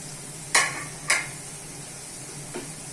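Prawns with spring onion and green chilli are sautéed in a pan: two sharp metallic scrapes of a utensil against the pan close together, then a fainter third, over a quiet, soft sizzle.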